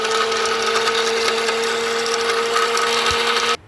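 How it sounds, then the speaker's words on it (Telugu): A mixer grinder whirs steadily while grinding ginger, green chillies and cumin into paste, a loud continuous motor drone with a high whine that cuts off abruptly at the end. "మిక్సీ జార్లో కట్ చేసుకున్న అల్లం, గ్రీన్ చిల్లీస్ ఇటుకు మాత్రమే వేస్తున్నాను."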